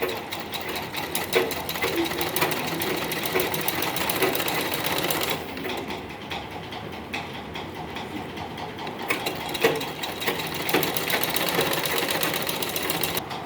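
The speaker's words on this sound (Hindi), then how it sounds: "हम बेल्ट सिल रहे हैं।" A sewing machine stitches a dhoti salwar belt with a steady, rapid mechanical clatter, easing briefly in the middle before running on, loud and close throughout.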